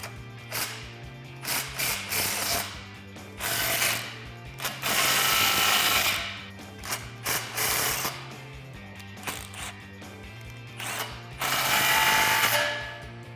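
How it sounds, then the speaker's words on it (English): A ratchet with a 15mm socket tightens clamps on a Borla Stinger S-Type exhaust system, sounding as repeated bursts of fast clicking with short pauses between strokes, close and fairly clear. "Grab a 15mm socket and we're going to tighten down those clamps."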